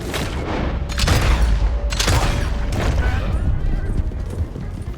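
Gunfire during a shootout in Red Dead Redemption 2, several sharp booming shots in quick bursts over a rumbling background, with voices shouting in places.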